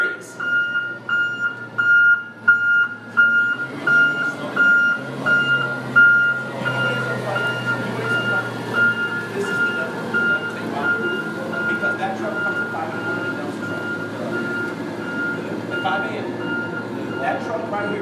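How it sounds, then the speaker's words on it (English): A garbage truck's reversing alarm beeps in a steady repeating pattern close by, loud and continuous over engine rumble, with people talking over it. "That truck right here has been by here 3 times."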